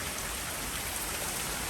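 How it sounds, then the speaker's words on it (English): Heavy rain pours steadily during Hurricane Idalia, a dense, continuous hiss of drops on surfaces that stays loud and unbroken throughout, with no voices. "It's raining again."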